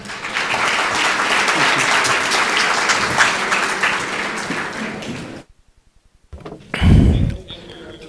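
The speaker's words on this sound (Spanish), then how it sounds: "Un fuerte aplauso" An audience at a lecture on biology modelling breaks into loud, sustained applause for several seconds, then it cuts off to near silence before a heavy thump and rustle close by.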